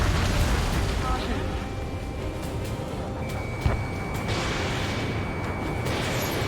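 Explosions from enemy tank fire in the combat flight game Ace Combat 7 roll through a dense, continuous roar, with one sharper blast standing out midway and voices running under the din.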